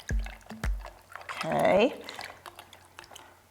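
Fabric soaked in water for indigo dyeing, with a short burst of wet swishing and dripping, preceded by two sharp knocks, close, while a person speaks briefly.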